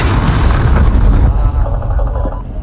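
A cruise missile blast in a Fennec team deathmatch shooter game, a loud booming explosion with heavy low rumble and crackling debris that cuts off sharply partway, leaving a quieter rumbling tail.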